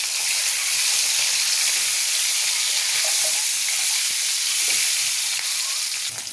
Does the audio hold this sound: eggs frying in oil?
yes